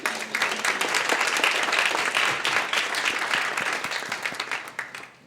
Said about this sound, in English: let's give another round of applause to all of our winners